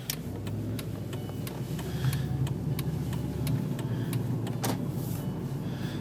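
Turn signal relay on a 2005 Chrysler 300C ticking in a regular, evenly spaced rhythm of sharp clicks, heard close inside the car over a low engine idle hum, with no speech.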